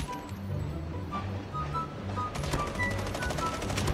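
Rapid automatic gunfire from a Russian weapon in Call of Duty Mobile, a quick stream of shots growing denser and louder midway, with game effects behind.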